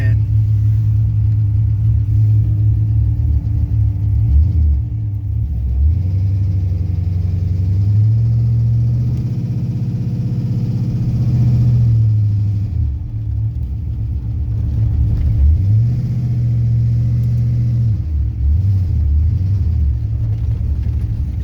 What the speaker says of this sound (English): First drive in the Corvette.